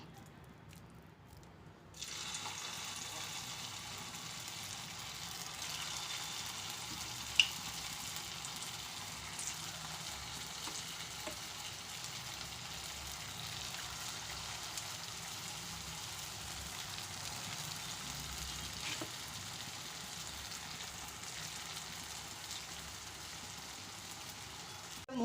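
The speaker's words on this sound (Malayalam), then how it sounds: "ഞാനൊരു പാൻ അടുപ്പിൽ വെച്ചിട്ട് എണ്ണ ചൂടായിട്ടുണ്ട്. ഇനി നമുക്ക് ഈ ഉരുളകൾ ഓരോന്നായിട്ട് അതിലേക്ക് ഇട്ട് കൊടുക്കാം." Potato balls for potato 65 deep-frying in hot oil make a steady, fine crackling hiss that begins abruptly and continues evenly, close and moderately quiet, with a few faint pops and no talk.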